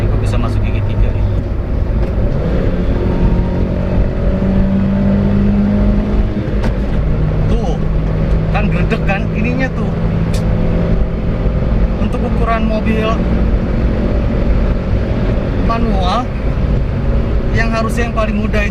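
A manual 2018 Toyota Calya E is driven on the Cipularang toll road, its engine droning steadily under road and wind noise with pitch shifts suggesting gear changes, while someone talks over it throughout.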